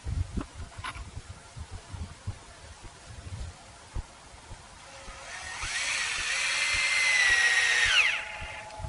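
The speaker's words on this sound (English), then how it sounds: "And I'll secure that with one screw there. Tighten it down, attach it to the top." A power drill drives a screw into a wooden fence post for a rope fence, rising from scattered taps and handling noise into a loud, close, sustained whirring spin that winds down abruptly near the end.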